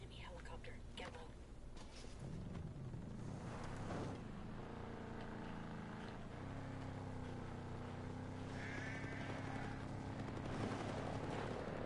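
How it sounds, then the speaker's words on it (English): Enemy helicopter in the Ghost Recon Breakpoint video game, a steady rotor and engine drone that runs throughout and swells partway through, while a player talks over it. "Enemy helicopter. Get low."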